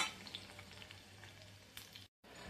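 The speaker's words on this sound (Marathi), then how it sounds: "आपल्याला सर्व सोयाबीन अशी तळून घ्यायची आहे." Soybeans fry in hot oil, giving a close, continuous crackling sizzle with a brief cut to silence near the end and no voices.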